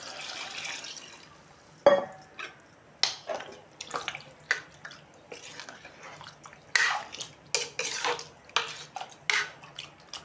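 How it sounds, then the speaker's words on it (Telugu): Water splashes and pours into curry in a pressure cooker in a home kitchen, in short irregular bursts with clinks of metal pans between them. "ఇప్పుడైతే వాటర్ కూడా పోసేస్తున్నాను."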